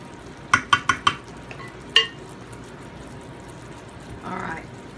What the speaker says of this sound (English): I'm putting the potatoes in, these sweet potatoes, I'm putting them in a casserole dish